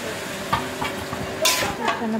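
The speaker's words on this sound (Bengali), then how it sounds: "এখানে পেঁয়াজের সাথে আমি ইচা মাছটা দিয়ে দিব, একসাথেই ভেজে নিব" Small icha shrimp frying with onions in a home kitchen pan, a steady close sizzle broken by a few sharp stirring scrapes and clinks.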